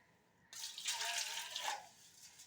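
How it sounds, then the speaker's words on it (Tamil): Salt water is sprinkled over rice vermicelli for puttu, giving a soft, close splash and patter of droplets that starts suddenly and trails off over about two seconds. "நம்ம உப்பு தண்ணியை மேலே தளிச்சு விட்டுருங்க"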